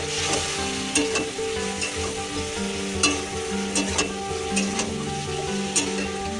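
Food sizzles in a pan with tomato and salt added, a loud steady frying hiss broken by repeated scraping and tapping from the stirring utensil, with a faint hum beneath.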